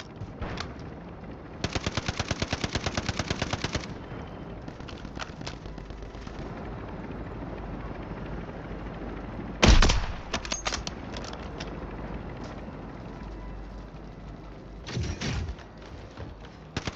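Video game gunfire: a long rapid burst of automatic fire, a heavy blast near the middle, then scattered shots and another short burst, all loud over a constant background rumble.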